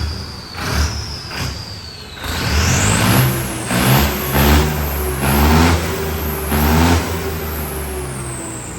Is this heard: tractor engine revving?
yes